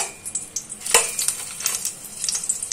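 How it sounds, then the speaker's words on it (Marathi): Crushed garlic fries in oil in a pan, a close, moderate sizzle with scattered crackles and the scrape and clink of a spoon stirring against the pan. "आता मी 2 चमचे तेल घालते आणि लसूण टाकते"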